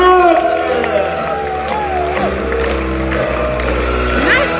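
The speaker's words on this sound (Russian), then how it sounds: "Аплодисменты" An audience at a multi-level marketing business presentation claps and cheers, a dense wash of applause and crowd noise under someone speaking over a microphone.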